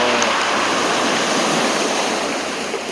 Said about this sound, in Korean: 파도 소리가 오네요.